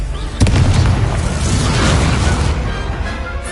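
A spell explosion in the Hogwarts Legacy video game: one loud, sudden boom followed by a long roaring rumble that slowly fades over several seconds.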